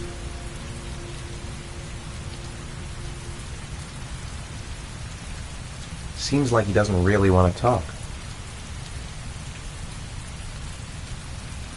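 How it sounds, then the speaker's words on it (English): Heavy rain falls steadily in the Heavy Rain video game, a soft constant hiss throughout, with someone briefly talking over it midway. "Heavy rain. It's been the same for weeks."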